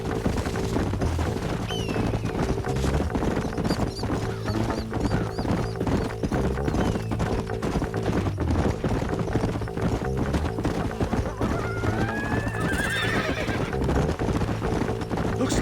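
Horses gallop and neigh in the video game Red Dead Redemption, with dense, continuous hoofbeats throughout and a few whinnies rising above the pounding.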